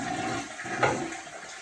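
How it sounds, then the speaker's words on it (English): A toilet flushes after its water supply has been shut off, a short close whoosh of draining water that swells briefly then fades into a quieter gurgle. "So once you shut the water off, flush the toilet."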